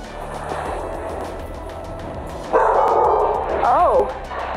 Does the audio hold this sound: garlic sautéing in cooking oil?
no